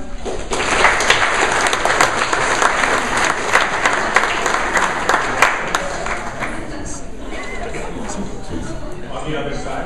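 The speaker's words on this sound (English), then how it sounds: "You guys can give him a round of applause." Audience applause at a law school student presidential debate, a steady, dense wash of clapping from a sizable crowd lasting throughout, with a faint murmur of voices underneath.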